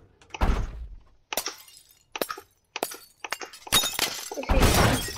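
Repeated glass shattering effects from a Windows 8 screen-smashing app, with several sharp crashing bursts separated by short silences and the densest, loudest breakage at the end.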